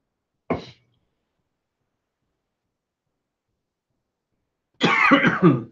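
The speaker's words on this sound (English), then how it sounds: "Let me have a good old cough while you're thinking." A brief sharp cough, then a long silence, followed by a louder, rougher cough with throat clearing, close by.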